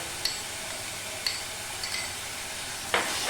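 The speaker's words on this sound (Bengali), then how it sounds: "দইটা দিয়ে আবার একটু কষাবো" An onion masala with yogurt sautéing in a pan makes a soft continuous sizzle, with a few sharp spatula clicks against the metal, close and moderately quiet.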